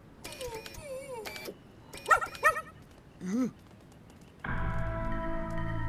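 A small cartoon dog from the animated series Tobot lets out a couple of sharp barks followed by a soft, high whimper, fairly close, before a steady background hum rises.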